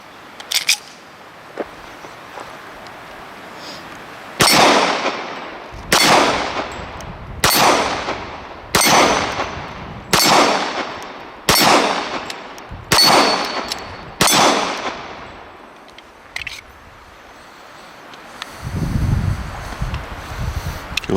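Eight sharp pistol shots from a stainless Les Baer Custom Carry 1911 ring out in a steady cadence about a second apart, each loud crack trailing a brief echo, followed by quieter handling noise and wind.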